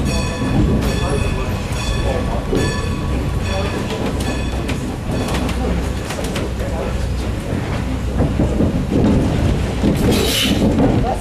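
Restored Strasburg Railroad train rumbling along the rails with steady rolling noise and clicking, heard from inside a car, while a voice talks over it and metallic squeals rise near the end.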